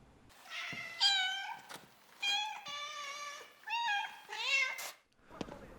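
A nekomata, the two-tailed cat yokai of the Ghostwire Tokyo video game, meows four times in close, clear, drawn-out cries with short pauses between them. A faint scratchy rustle follows at the end.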